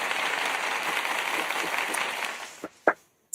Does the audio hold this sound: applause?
yes